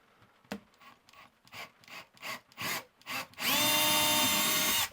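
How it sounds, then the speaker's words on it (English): A small power drill whirs in several short bursts, then runs steadily at a high whine as it bores a pilot hole for a hole saw, loud and close. "Yes, this is a very diddy little drill"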